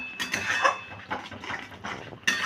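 A spoon knocks and scrapes around a bowl while semolina batter for potato pakoras is stirred, giving repeated clattering strokes in an uneven rhythm, close and moderately loud.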